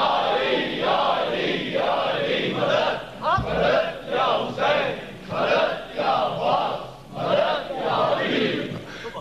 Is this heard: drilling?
no